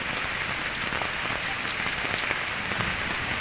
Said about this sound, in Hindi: धीरे धीरे करके बारिश बहुत तेज हो गई है